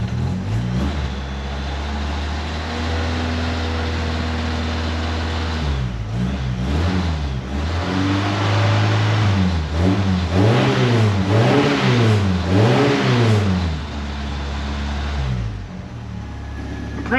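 A vintage 1937 Buick or 1931 Ford Model A coupe engine idles steadily, then revs repeatedly in rhythmic bursts before settling back to idle, loud and close.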